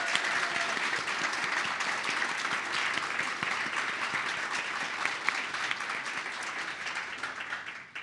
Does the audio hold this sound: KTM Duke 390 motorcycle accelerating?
no